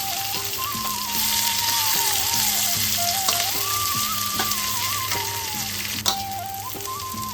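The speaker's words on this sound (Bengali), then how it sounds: "এবার আমি কুচনো পেঁয়াজ দিয়ে দিচ্ছি।" Chopped onions fry in a pan for a Bengali chicken curry, a constant close sizzle running under a melodic music track, with a few light clinks.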